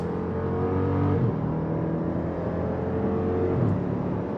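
An SUV launching hard from the factory launch control, its engine droning loudly and steadily as it pulls, with quick rising pitch changes at each fast gear shift and no voices.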